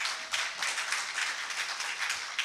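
Applause at a provincial party congress comes as steady, moderately quiet clapping from a crowd, a continuous patter of hands without talk over it.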